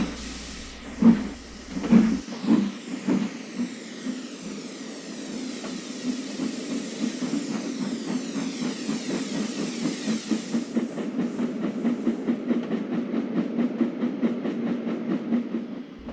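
A steam train pulls away, slow heavy chuffs quickening into a steady rhythmic beat over a continuous hiss of steam.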